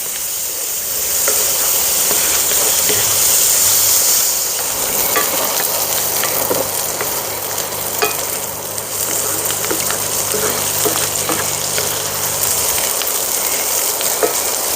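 A spatula scrapes bacon fond off the bottom of a hot pan, a continuous loud sizzle and hiss with intermittent scraping and stirring strokes, no talking.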